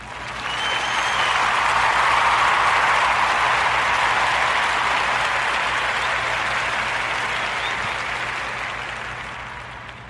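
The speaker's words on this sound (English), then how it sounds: "So let's give them a round of applause for the soon coming Greenwood Plaza" A steady round of applause, thick and even clapping that holds for about ten seconds before tapering slightly, with a low hum beneath it.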